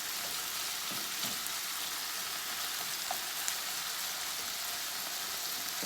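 Ground beef, 80/20, frying in a pan with chopped onion and garlic, a dense, steady sizzle with faint crackles and occasional stirring, close and continuous with no talking.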